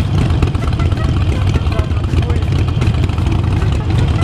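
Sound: Harley Sportster motorcycle engine with aftermarket exhaust

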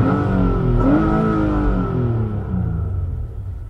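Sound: car engine revving under full throttle

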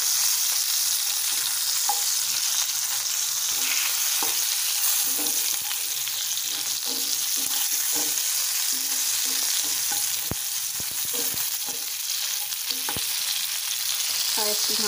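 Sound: stirring pointed gourd frying in a pan

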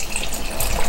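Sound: pouring stock into a chili pot

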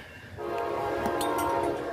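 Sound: Amtrak train arriving with horn

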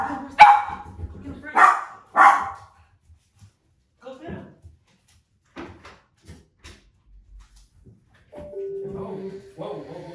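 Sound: dogs barking, a pit bull and a dachshund

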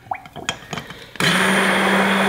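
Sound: stick blender making mayonnaise

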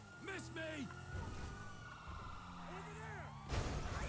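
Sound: police car siren in video game GTA 5

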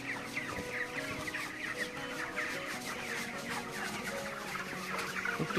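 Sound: chickens clucking

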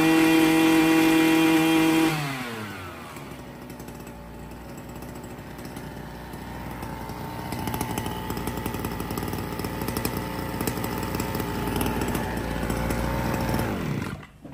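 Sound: large brush cutter engine running

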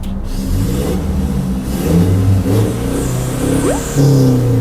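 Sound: pickup engine revving through aftermarket exhaust

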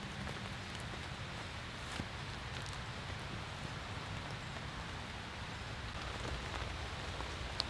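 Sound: rain falling on a tent

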